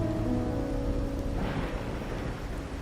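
Steady rain falls in the video game Wuthering Waves, a dense hiss with a low rumble like distant thunder. Soft sustained tones fade out in the first half before the rain swells slightly.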